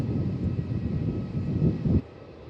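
An airliner taking off from runway 27 at Melbourne Airport, a broad distant engine roar that holds steady and then drops off sharply, with no voices.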